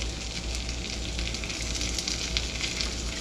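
Sliced peppers for a pepper steak stir fry sizzle steadily in a hot pan, a loud continuous crackling hiss with occasional sharper pops and no talking.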